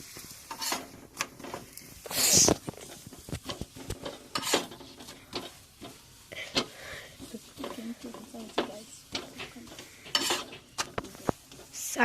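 Beetroot paratha frying in oil in a pan, a soft sizzle under frequent scraping and stirring clinks from a spatula.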